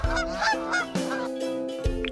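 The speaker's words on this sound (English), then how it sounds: "Goose." A goose honks close up, several loud, harsh nasal calls in a quick irregular series with brief gaps between them.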